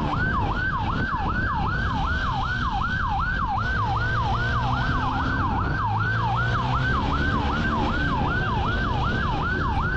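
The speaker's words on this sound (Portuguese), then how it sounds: "Passou um carro da polícia do lado." A police car siren wails in a fast, regular up-and-down cycle, loud and close as it passes a motorcycle on a city street, over steady road and engine rumble.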